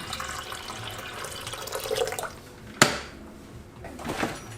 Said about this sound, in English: I'm gonna put some water in here